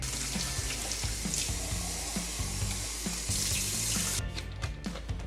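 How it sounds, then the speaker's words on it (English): A vacuum cleaner filter from a Dyson V6 Plus rinsed under a running tap, with steady splashing water and irregular knocks and clatters of the filter against the sink throughout. "Run it under water, give it a wash."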